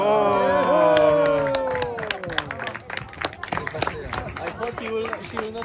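Crowd at an Alpine ski event cheers and claps as a skier crosses a water pool, a rising roar of voices and scattered applause, loud and close, with some voices standing out.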